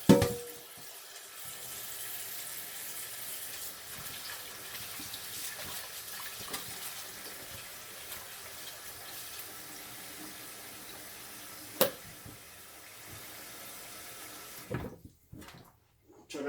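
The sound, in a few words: tap water filling a cooking pot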